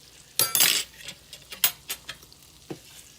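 Frozen okra frying in a hot pan over medium-high heat, with a soft sizzle broken by several sharp clinks and scrapes of a utensil stirring against the pan, close and with no voices.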